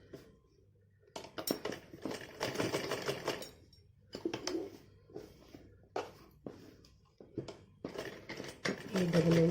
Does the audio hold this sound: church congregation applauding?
no